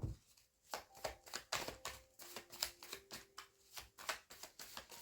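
Tarot cards riffled and drawn from a deck during a reading, a steady run of crisp papery flicks and slaps, close and quiet, with no voices.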